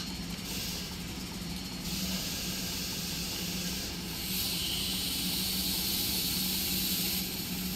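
Air brakes on a train in Train Simulator let out a long, steady, loud hiss of escaping air, swelling slightly in the middle and continuing unbroken for several seconds over a low engine hum.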